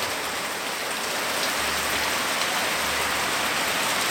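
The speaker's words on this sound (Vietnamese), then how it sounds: "Đây mưa một tí mà ướt hết này." Steady rain hisses down continuously, a dense, even patter of drops close by with no pauses.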